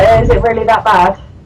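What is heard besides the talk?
No everyday noise stands out behind the speech.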